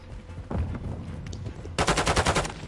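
Rapid bursts of gunfire from sniper rifles in a video game, a scattered volley early on and then a loud, dense string of shots near the end, with no talking.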